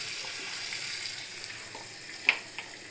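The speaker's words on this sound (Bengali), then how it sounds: "এটা দিয়ে আমি একটু ড্রাই রোস্ট করব।" Bay leaf, a dried red chili, cardamom, coriander and salt dry roasting in a pan for yakhni paneer, a soft steady crackling hiss with a couple of faint clicks, close and unbroken.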